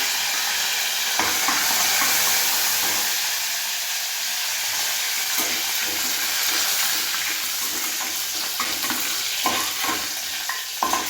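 Byadagi chillies, curry leaves, chana dal and urad dal hit hot oil, producing a continuous close sizzle and crackle with scattered sharp pops and occasional stirring scrapes.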